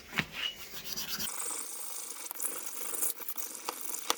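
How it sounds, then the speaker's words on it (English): Sandpaper scrubs across glossy glazed ceramic kitchen tile in a steady, close, dry rasping scratch with small irregular surges, no voices. "you can see already that the sandpaper is starting to scratch that glaze"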